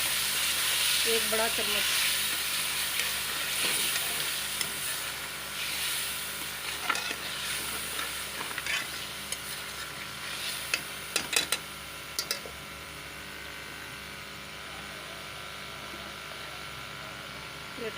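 Onion paste sizzles and hisses steadily in hot oil while frying for chicken chana daal, with occasional stirring clinks and a voice speaking briefly over the quiet frying.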